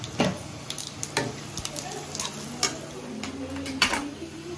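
Whole cumin and garam masala sizzling in hot oil, a close, quiet frying hiss broken by sharp irregular pops and crackles as the spices hit the pan.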